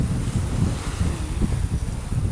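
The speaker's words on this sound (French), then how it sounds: "là on a un bon vent, 20 nœuds" Strong wind of about 20 knots buffets the microphone aboard a sailboat at sea off Corsica near Ajaccio, a dense steady roar with rushing water and no talk.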